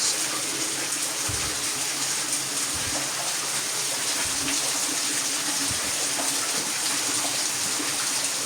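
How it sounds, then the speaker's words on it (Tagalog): Water pours down from above onto a cement floor, a steady broadband rush with a few low thuds, moderately close and continuous throughout with no talk. "So, may tubig na dito, galing sa taas."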